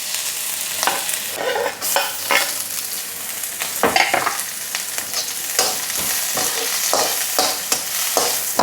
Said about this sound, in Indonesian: Kita tumis dulu bawangnya.